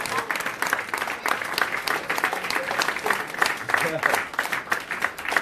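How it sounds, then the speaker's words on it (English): A large crowd at a Nation of Islam address claps in a sustained, thick wave of applause, with scattered voices and shouts mixed in throughout. "I want a big round of applause for myself."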